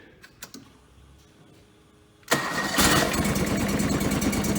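A fuel-injected lawn mower engine cranks over with a turn of the key and catches, a few quiet clicks first, then a loud close-up engine roar that keeps running steadily.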